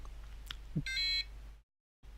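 A short electronic low-battery alarm beep from a Flysky i6 radio transmitter, with a bright tonal buzz, sounds once, briefly, over low background hum, then cuts to silence.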